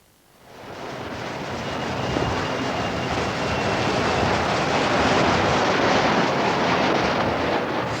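Submarine noise captured by submerged hydrophones, a continuous broad rushing roar that swells in over the first second and then holds steady and loud, with no talk.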